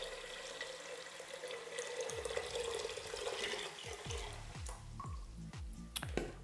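Cold water pours from a tap into a pot of lentils, a steady rushing stream that then breaks into a series of splashy, gurgling drips and plops near the end, fairly quiet and close.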